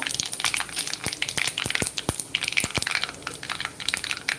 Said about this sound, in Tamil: இப்போ கடுகு பொரியுது கடுகு பொரிஞ்சாலும் அதில் சீரகம் இருக்குது